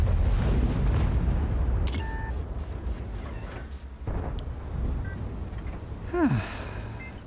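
Tank cannon firing at a turret in a video game, with a loud heavy boom and rumble at the start that fades, followed by mechanical clanks and a whooshing shell sound near the end.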